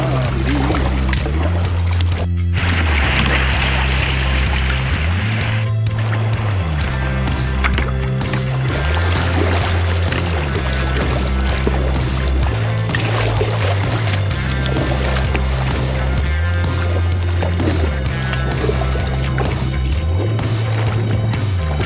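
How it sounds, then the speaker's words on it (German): Kayak paddling out on the sea near Bülk lighthouse, rhythmic paddle strokes and water splashes repeating every couple of seconds beneath loud, constant wind and water noise. "Aber ich paddel hier mal wieder raus."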